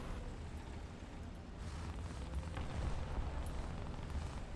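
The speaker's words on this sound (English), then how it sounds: "Artillery fire!" Artillery fire in the War Thunder video game, ground realistic battles, comes as a dense, continuous rumble of distant explosions, steady and broadband with no voices over it.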